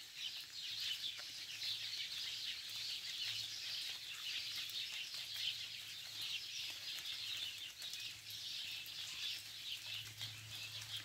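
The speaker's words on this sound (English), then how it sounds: "I can hear the birds in the background," Birds chirping and calling steadily in a quiet, distant outdoor setting in the New Zealand bush, mostly tui, a soft continuous chorus with no voices, on a wet day with rain dripping onto leaves.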